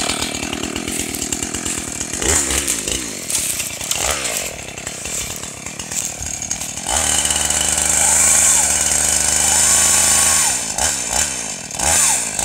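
A chainsaw cuts wood close up, its engine snarling and revving in surges throughout, with a steady high cutting whine in the middle stretch. Someone talks over it at times.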